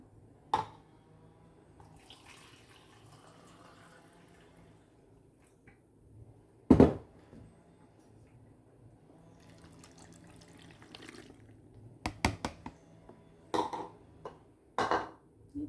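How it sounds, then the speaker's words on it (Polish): Water is added to a mushroom soup of button mushrooms with allspice and pepper. A quiet trickle of running water is broken by several sharp clinks and clatters of kitchenware. "i dodamy zaraz wody jeszcze"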